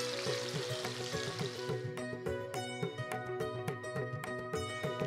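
Fish frying gently in a kadhai over a low gas flame, a soft sizzle that fades in the first seconds as the pan is swirled, leaving a quieter bubbling under a steady background hum.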